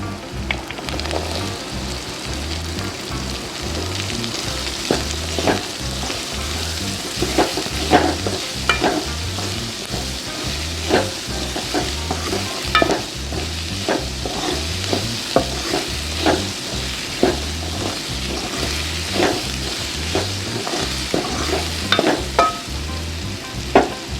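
Yellow pumpkin pieces stirred into sambar in a hot pan, with steady crackling fry and sizzle and repeated scraping stirs throughout, close and continuous with no talk.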